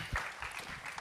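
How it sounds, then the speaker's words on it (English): Audience applause at a financial panel on athletes and wealth, greeting panelist James Bradberry; a short burst of clapping from a seated crowd, fairly steady and moderately loud for about a second. "Give James Bradberry a round of applause."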